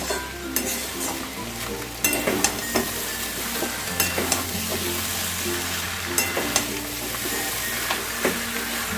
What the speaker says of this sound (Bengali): মাছের মাথাগুলোকে ভালো করে মশলা চাল সব কিছুর সাথে আমি কষিয়ে নিচ্ছি